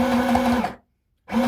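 A domestic sewing machine stitches a red cotton skirt, a steady close motor hum with rapid needle rhythm that stops abruptly for about half a second and then resumes.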